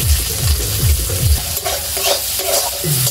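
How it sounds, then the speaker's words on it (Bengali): Onion hitting hot oil in a kadai, loud close sizzling and frying with a spatula scraping and stirring in quick repeated strokes. "কড়াইতে তেল দিয়েছি, তেল গরম হয়ে গেছে। পেঁয়াজ ফোড়নে দিয়ে দেবো।"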